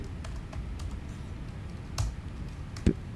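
Computer keyboard keys tapped in short bursts while commands are entered, close and fairly soft clicks scattered over a low background hum, with a firmer keystroke near the end.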